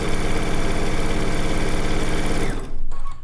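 A sewing machine runs steadily and loudly, piecing diamond shapes for a zig-zag quilt top, then slows and stops near the end of the run.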